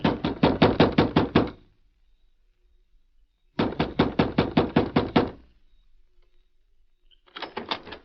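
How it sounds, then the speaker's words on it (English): Loud knocking on the door of a sheriff's house at night, two bursts of about nine rapid raps each with silence between, then a third burst starting at the end. "the door of the sheriff's home echoed with a loud knock"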